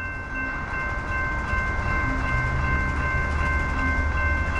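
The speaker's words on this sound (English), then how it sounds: "This train's going really slow." A CSX or Norfolk Southern freight train rolls slowly along a New Jersey railroad track, a loud, steady rumble close by with a sustained tonal whine running throughout.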